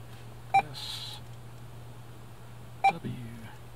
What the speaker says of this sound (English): You just spin the dial till it shows the letter you want.